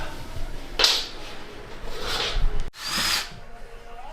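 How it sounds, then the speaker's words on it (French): A power drill bores holes into an apartment wall in a few separate bursts of whining, grinding drilling, each a second or so long with brief pauses between, close and fairly loud. "ça perce des trous dans mon mur"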